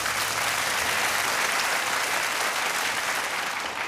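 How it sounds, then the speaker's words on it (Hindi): A studio audience on a TV quiz show claps in steady, dense applause that holds at an even level throughout, loud and close, with no talk over it. "हम तालियों के साथ इनका स्वागत करते हैं"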